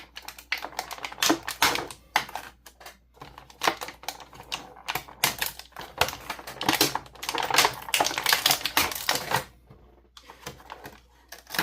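Rapid, irregular clicking and snapping bursts come from zip ties being undone on WWE Maivia Legacy three-pack action figure toy packaging, close up, in uneven clusters with brief pauses and no talking.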